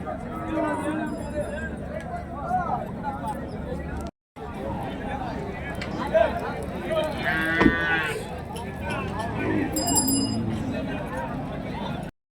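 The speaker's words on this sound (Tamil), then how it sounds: "ஃபுல்லாக வந்து பெரிய பெரிய மாடுங்க எருதுங்க தான் வந்திருக்குங்க" Large cattle and bulls lowing at a busy weekly livestock market in Kundarapalli, Krishnagiri district, with a couple of drawn-out moos rising over constant crowd chatter and people talking nearby.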